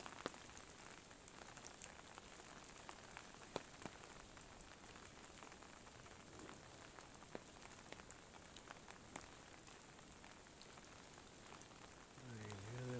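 Steady rain falls outdoors at night, a dense continuous patter with occasional louder drops, alone and evenly loud throughout.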